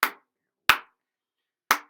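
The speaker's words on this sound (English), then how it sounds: "I'll clap New Orleans clave with my hands" Three sharp, isolated hand claps ring out alone, with the second and third spaced a full beat apart, the opening strokes of a New Orleans clave pattern.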